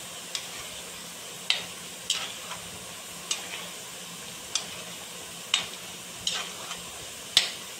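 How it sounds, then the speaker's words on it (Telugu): Mushrooms stirred in hot water in a pot make gentle sloshing with faint, regular clinks of a spoon against the vessel, heard close and quiet. "ఈ మష్రూమ్ని ఈ వేడి నీళ్ళలో వేసుకోవాలి ఫ్రెండ్స్. దీన్ని బాగా ఇలా కలుపుకోవాలి."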